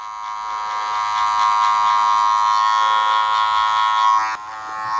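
Electric hair clippers fitted with a guard buzz close up while cutting a short back and sides, a steady bright motor whine that rises and dips slightly as they move through the hair, then cuts off abruptly near the end.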